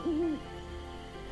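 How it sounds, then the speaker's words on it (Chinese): An owl hoot in the video game Elsword: one short, clear hoot that rises and falls near the start, then fades into soft game background sound. "他真的是猫头鹰的声音啊"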